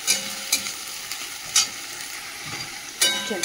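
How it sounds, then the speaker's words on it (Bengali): A spice paste of ginger, garlic, tomato and chilli sautés in a pan with a constant sizzle, broken by regular scraping stirs about every half to one and a half seconds. "দিয়ে মশলাটা ভালো করে কষাবো"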